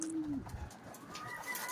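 A racing pigeon coos softly at a loft, one low gliding call near the start followed by faint chirps and distant bird sounds, quiet and without talk.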